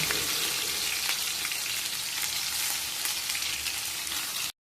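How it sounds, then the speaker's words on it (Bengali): Shrimp frying in hot oil in a pan gives a steady, dense sizzle that crackles evenly and close by for several seconds, then cuts off abruptly. "চিংড়ি মাছটা একটু ভেজে নেব"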